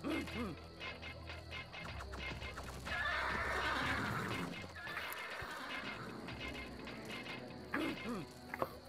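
Horses neigh and whinny in the Empire Earth strategy game, with several calls over game clatter and mechanical sounds, moderately close and clear.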